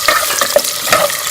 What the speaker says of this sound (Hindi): इसके साथ ही हम इसमें प्याज शामिल कर लेंगे और प्याज को